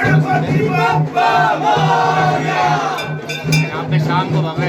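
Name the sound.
crowd of devotees cheering at Ganesh temple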